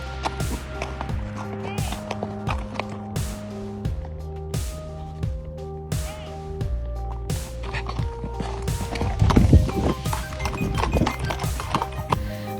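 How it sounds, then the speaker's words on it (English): A horse runs off with a quick, rhythmic clip-clop of hooves, loud and close, layered over steady music. "That horse sprinting in the other direction sells that theory for me."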